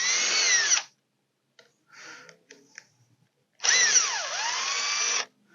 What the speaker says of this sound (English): And we're going to take these two bolts out.